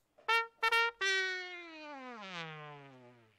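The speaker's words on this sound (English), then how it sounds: "this is what my trumpet sounds like" A trumpet sound effect of three short blasts followed by a long, drawn-out note that slides downward and fades, close and clear with no talking.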